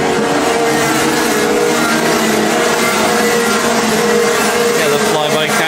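Racing karts at a Rotax Festival and Honda Cadet Cup meeting scream past the start-finish line, a loud, continuous high engine drone that fills the whole stretch without a break.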